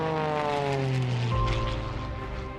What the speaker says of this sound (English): they would watch vintage airplanes loop through the air and perform death-defying maneuvers at breakneck speeds